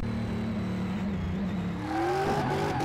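A drift kart engine in Car Mechanic Simulator 2018 drones steadily at high revs, with tire scrubbing and a rising whine in the last second as the wheels spin.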